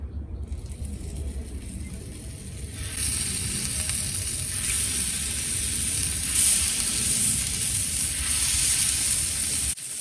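Smash burgers hitting a hot Blackstone griddle oiled with avocado oil, a loud continuous sizzle that swells after a few seconds and holds steady with faint rattling underneath.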